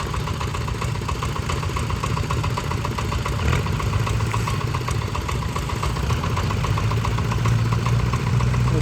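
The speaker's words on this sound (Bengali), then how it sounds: "এখানে বড় ইঞ্জিনটা মেবি স্টার্ট দিবে।" Big diesel engine of a river sand-dredging boat running steadily at idle, a loud continuous low throbbing rumble with mechanical vibration, close by and without talk.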